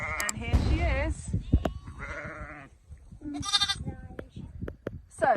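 Lambs bleat in a Yorkshire meadow, several close wavering calls coming one after another with short quiet gaps, while a person talks softly among them.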